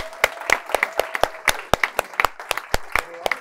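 A small crowd at a sales panel event gives a round of applause, a fairly sparse, uneven patter of several people clapping nearby, steady for a few seconds.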